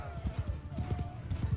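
Horse hooves clip-clopping in the medieval combat game Mount & Blade II: Bannerlord, a quick, steady gallop rhythm of close thuds, with a faint tonal hum in the background.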